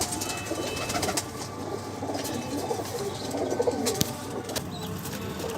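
Pigeons coo softly and repeatedly at close range, with a few sharp clicks and faint background noise. No one speaks.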